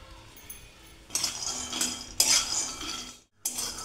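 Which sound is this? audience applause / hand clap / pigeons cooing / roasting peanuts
roasting peanuts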